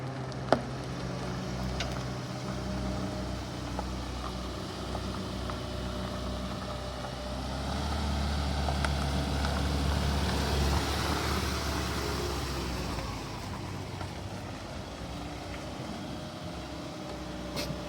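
A cheap, neglected used Honda Civic idles with a steady low hum and rumble, swelling slightly midway as the engine is revved or loaded before settling back, with no talking.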